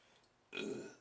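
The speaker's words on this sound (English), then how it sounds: "ever since that pizza I've been burping" A single loud burp from a man after eating pizza, rising abruptly and lasting about half a second, close to the mic in an otherwise quiet room.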